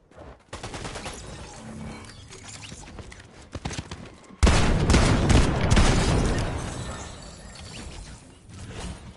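Fortnite shotgun fire: after some quieter clicks and game noise, a loud run of heavy, booming blasts and clattering impacts starts partway through and stays dense until the end.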